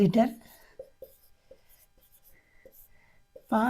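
A pen scratching on paper while working a class 7 math problem, short soft strokes in a sparse rhythm between spoken phrases, close and quiet.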